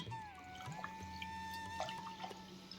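Soft drips and gentle sloshing as rice is washed in water, quiet and close, over a faint steady background hum.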